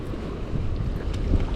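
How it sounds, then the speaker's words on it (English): Low, rumbling wash of river waves from a passing ship's wake, a steady broadband churn with gusty wind noise on the microphone, close and moderately loud with no talking. "Kind of crazy watching the river waves. There was a wake from a ship that did that coming up in here."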